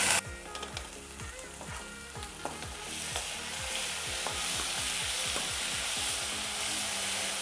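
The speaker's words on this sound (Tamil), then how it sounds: "இந்த வாழைப்பூவை நம்ம இதில் சேர்த்து இதை வதக்கிக்கலாம்" Chopped banana flower sautéing in hot oil, a dense continuous sizzle with quick scraping stirs and spatula knocks, close and fairly loud throughout.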